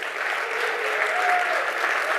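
Audience applause after the President of Malawi is introduced at a digital-future conference, a steady, dense wash of clapping from a large crowd holding evenly for about two seconds.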